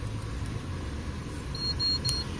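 A car's seatbelt warning chime sounds in a short series of thin, high electronic beeps over the steady hum of the engine and air conditioning inside the cabin.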